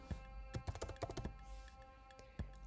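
Keys click on a computer keyboard as a function name is typed, a quick irregular burst of close, soft taps with a pause and one last keystroke.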